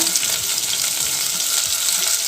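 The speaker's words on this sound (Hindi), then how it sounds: "कैप्सिकम भी डाल देंगे। अभी वो थोड़ा सा फ्राई होने से वो रॉ स्मेल चला जाएगा" Capsicum fries in a pan with a loud, steady, dense hiss of sizzling oil, continuous from start to finish with no voices.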